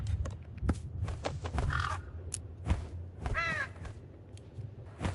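A crow caws in the horror puzzle game True Fear: Forsaken Souls, a few harsh calls spread across a scene with other game sounds, one clear raspy caw standing out near the middle.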